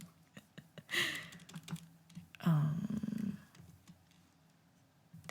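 Computer keyboard typing in a quiet room, scattered clicks and short bursts of keystrokes, fairly close and moderately loud, with a brief noisier patch of rustling in the middle.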